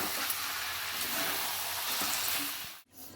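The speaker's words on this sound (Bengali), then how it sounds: "এবার একটু এই চিকেনের একটুখানি বিরিয়ানি মশলা দেবো, দিয়ে একটু কষাবো" Chicken frying with biryani masala in a pan, a steady close hiss and sizzle with occasional stirring, cutting off abruptly near the end.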